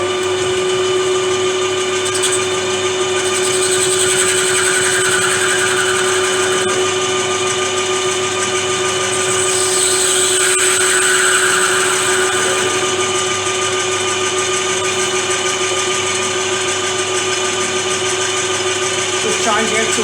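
Metal drilling on a workshop machine with digital readout, a steady whirring drone with a constant tonal hum running unbroken for twenty seconds, fairly loud and close, with no talk over it.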